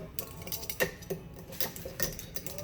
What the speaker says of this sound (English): so I usually just use my little spatula here.